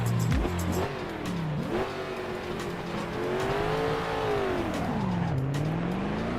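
A historic race car in Assetto Corsa, the loud engine note rising and falling through gear changes and revs, with brief tire squeal and skidding, close and continuous throughout.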